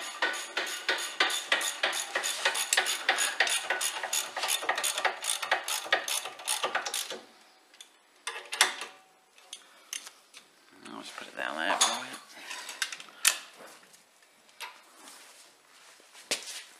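Rapid ratcheting clicks from a breaker bar tightening brake caliper bolts on a Land Rover Discovery, a dense run of close metallic ticks that thins into scattered clanks while people talk nearby.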